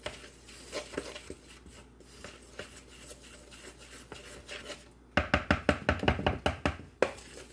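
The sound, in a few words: stirring pumpkin roll batter in a bowl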